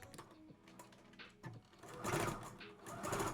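A sewing machine stitches and back stitches fabric for a kid's dress, quiet at first then a close, fast whirring run of needle strokes in two bursts.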